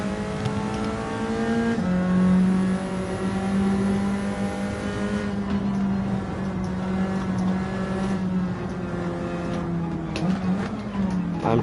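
Nissan Silvia race car in Gran Turismo 7 online daily racing, a loud continuous engine drone rising through the gears, with pitch drops at shifts around two, five and ten seconds, and no talk.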